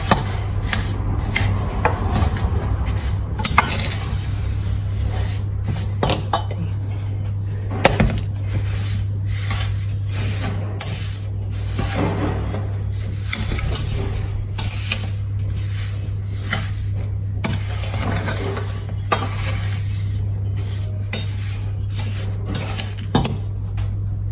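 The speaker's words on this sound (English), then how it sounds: "Now I just stir it together." A spoon scrapes and knocks steadily in a pot of mulberry jam heating on a stove, a continuous busy clatter over a low steady hum, close and with no talk.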